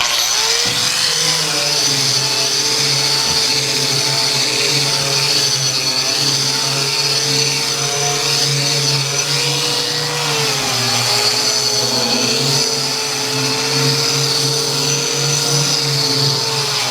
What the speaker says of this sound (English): we're gonna get the grinder, get the glasses on, and start grinding away